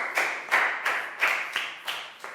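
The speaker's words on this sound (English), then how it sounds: "big round of applause for Lakgao" In a Year 4 classroom, pupils clap in a steady rhythm, seven bright, echoing claps in a row, each decaying before the next.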